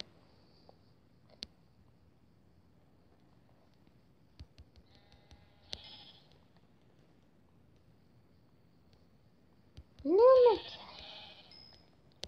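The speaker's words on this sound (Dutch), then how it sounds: "Schapen. Drie precies." Sheep bleating in Minecraft: one loud, clear wavering bleat rises near the end after quiet stretches with only faint clicks and small game sounds.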